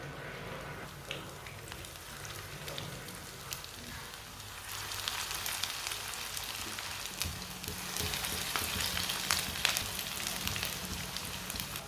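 Leftover rice tikki kebabs fry in oil in a pan, giving a steady broadband sizzle that swells louder partway through and keeps crackling to the end, with no voices.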